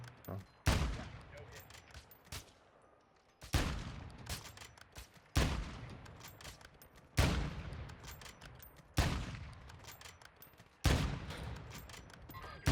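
Gunfire in the Call of Duty DMZ video game comes in loud, sharp bursts every couple of seconds, each ringing out and decaying before the next volley, with faint talk in between.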